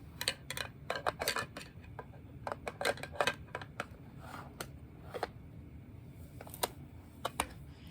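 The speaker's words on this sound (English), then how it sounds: "So, I have this handy dandy card shuffler here that I'm going to use to shuffle the cards." A card shuffler works through a deck of playing cards, giving irregular clusters of quick, sharp clicks and riffles against a low background hum, with no talking.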